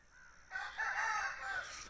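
A rooster, likely a fighting breed, crows once nearby in a long, drawn-out call that starts a half second in and rises, wavers, then trails off over quiet background, with no talk.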